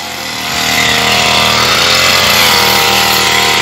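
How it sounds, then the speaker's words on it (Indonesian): A brush cutter whirs loudly and close by as it trims grass during a church grounds cleanup, rising after half a second into a sustained high-pitched motor drone with no talking. "Menggunakan kita pakai mesin rumput ya guys"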